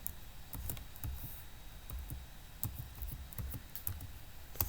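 Steady typing on a computer keyboard, with quiet, close key clicks tapping out a loose, uneven rhythm against a faint background hum; no voice is present.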